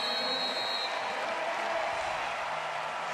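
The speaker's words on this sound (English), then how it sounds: "It's clapping by the American team there." Applause from the USA wheelchair rugby team after their bronze medal game against Japan at the London 2012 Paralympics, a steady wash of clapping with faint crowd noise throughout.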